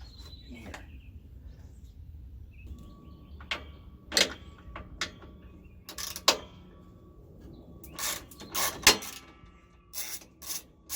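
A ratchet with a 10mm socket backs bolts out during AC replacement disassembly on a 1999 Sierra, giving close, sharp bursts of clicking that come in irregular clusters over a faint low background hum.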